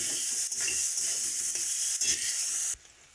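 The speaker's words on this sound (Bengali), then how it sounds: "ওই মাছ ভাজার তেলে একটু কালো জিরে আর পেঁয়াজ দিয়েছি" Sliced onion and nigella seeds sizzle in oil left from frying fish, a bright close hiss with soft stirring scrapes that cuts off abruptly near the end.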